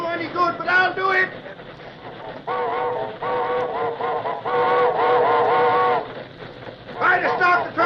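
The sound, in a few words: train whistle blowing, radio drama sound effect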